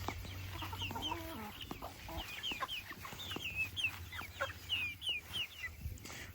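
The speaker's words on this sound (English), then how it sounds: "here's all of our chickens. All just kind of hanging out" Chickens clucking and chirping in a steady scatter of short calls, close by, with a low hum underneath.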